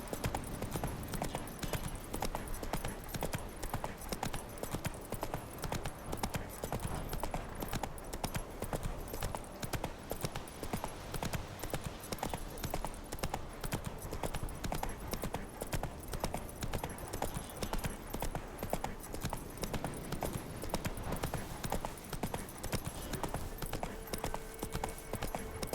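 Horse hooves gallop in The Witcher 3 video game, a steady, loud clip-clop rhythm running the whole time with faint background ambience and no talk.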